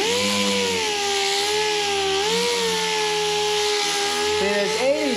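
A power sander with 80 grit paper works on a plastic part: a loud, steady, close whine with a slightly wavering pitch that dips briefly near the end.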